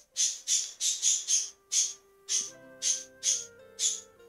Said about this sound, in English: there you can hear my bird, who all of a sudden enjoys screaming a lot